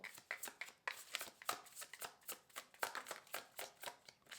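Tarot cards are shuffled repeatedly in quick, rhythmic riffles, each a crisp papery flutter, close and fairly quiet with no talking.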